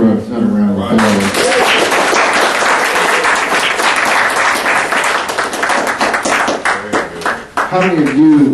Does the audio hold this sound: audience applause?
yes